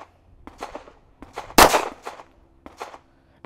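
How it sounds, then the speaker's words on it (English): A single loud handgun shot after an appendix holster draw, one sharp crack amid lighter clicks and handling noises before and after. "go ahead and slowly break the shot"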